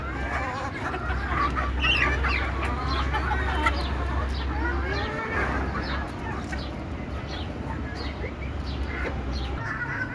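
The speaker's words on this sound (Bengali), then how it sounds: "আমি কত সহজেই এই ছাদ খামারে দেশি মুরগি পালন করি" Native desi chickens on a rooftop farm cluck and call repeatedly, with overlapping bursts of clucking and a possible rooster crow over a low steady background hum, close by and fairly loud throughout.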